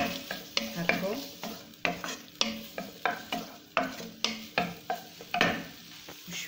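Ingredients sautéed in a pan in a home kitchen, a spoon scraping and stirring in a steady rhythm of knocks over a soft constant sizzle, close and moderately quiet, with no talking.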